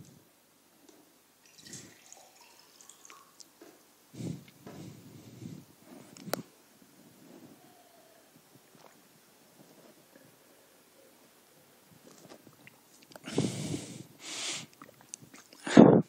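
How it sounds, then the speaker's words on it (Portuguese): During a classroom-style lecture, someone takes a sip of water alone: scattered faint handling noises and quiet pauses, then a couple of close, louder gulps and swallows near the end, no speech. "vou beber um gole d'água aqui"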